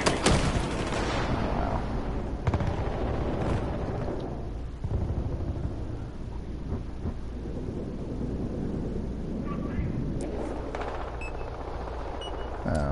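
Submachine-gun fire at long range in Battlefield Hardline, heard as rumbling, booming shots and distant explosive cracks over a steady roar of battle noise.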